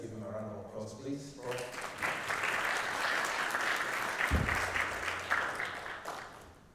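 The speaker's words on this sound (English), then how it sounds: "Let's give him a round of applause, please." Audience applause breaks out at a symposium on financial inclusion after a speaker is invited to the podium, a dense steady clatter of many hands that follows a brief spoken introduction and holds to the end, with a deep thump midway.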